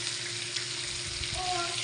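Onions fry in hot oil for a shrimp dish, giving a steady, even sizzle that carries through the whole short stretch at moderate volume.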